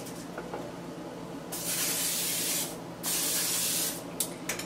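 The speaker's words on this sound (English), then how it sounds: "I'm gonna go ahead and again spray it with my fat-free Pam." Fat-free Pam cooking spray hisses onto a waffle iron in two steady bursts of roughly a second each, close and fairly loud, followed by a few small clicks.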